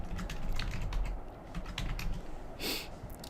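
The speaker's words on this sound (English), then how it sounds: "just type your keyword in here" Rapid clicking of keys as a keyword is typed on a computer keyboard, close and steady for a few seconds with a brief burst of louder hiss near the end.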